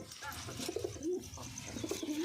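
A frightened pair of pigeons coo softly nearby, low rolling calls repeating twice against a faint background hum.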